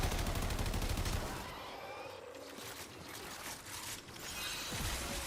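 Rapid AK-47 gunfire in the game Warframe, a dense burst of shots up close at the start that thins into scattered, softer reports and clatter before picking up again at the end.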